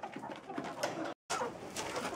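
Pigeons or doves cooing steadily and close by during poultry feeding time, a continuous soft throaty murmur broken by one brief gap.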